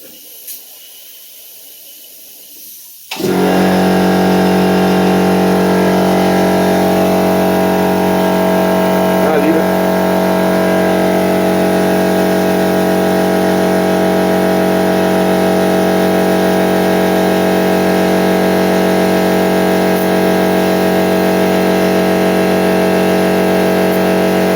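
An airbrush blows straight air to dry weathering pigments on a model, starting abruptly after a quiet moment and then running as a loud, steady hiss with a constant mechanical hum beneath it.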